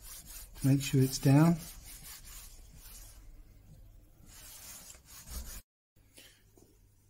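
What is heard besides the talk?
going over wooden camera block, sanding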